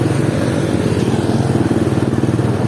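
A motorcycle rides slowly along the edge of a road in Vientiane, its engine droning steadily and close throughout with a dense low rumble and no clear revving.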